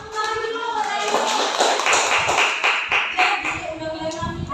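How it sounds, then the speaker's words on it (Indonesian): Classroom applause for a student, with children clapping in a brisk uneven patter mixed with tapping and thumps while voices talk over it. "tolong tepuk tangan dulu buat Hairul."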